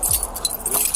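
Car keys jangle in a quick metallic rattle, loud and close, with a few clinks through under a second of tense roadside confrontation, no speech over it.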